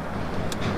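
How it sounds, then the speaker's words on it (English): A steady rumble of road traffic, continuous and fairly loud, with no voices. "Sorry about the traffic noise"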